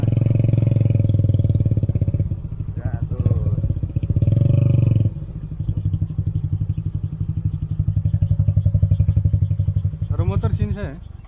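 A motorcycle engine idles and chugs close by at night on a fishing trip, rising in brief revs before settling, with short bursts of someone talking over it.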